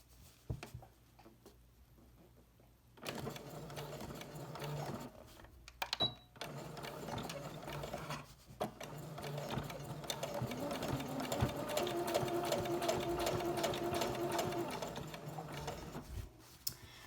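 A sewing machine stitches a length of fabric for a drawstring bag, running in steady bursts with a faint start, then a louder continuous whir from about three seconds on, close by and with no talking.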